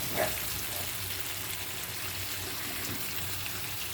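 Urad bean vegetable frying in a pan and being stirred, giving a steady, close sizzling hiss throughout with light scraping and no talking.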